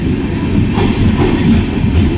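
Rumbling, steady rolling noise of a passenger train in motion, heard from inside a fairly empty carriage, with a continuous low-frequency drone and faint rhythmic wheel clatter throughout.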